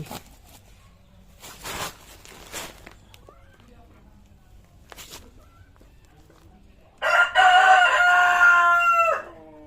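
A tiger chicken rooster crows loudly and close by near the end, a long harmonic call, after quieter scuffs and short sounds.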